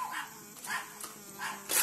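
Dogs barking at a cat in a yard, several sharp barks spaced about half a second apart, moderately distant and a little muffled, with no talk over them.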